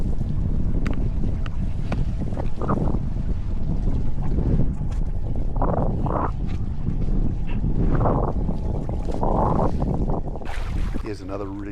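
Strong wind buffets the microphone with a constant low roar, with water sloshing and faint voices mixed in, during light-wind kiting on water with an Ozone Pocket Rocket V2 5m kite.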